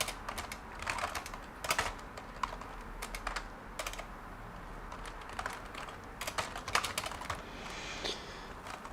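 Rapid typing on a computer keyboard, a continuous patter of close key clicks with occasional louder strikes and short pauses.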